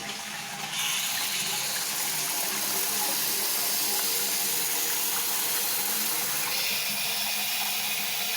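An old toilet flushing after its flush system has been upgraded, a steady close rush of water running for several seconds with no one talking.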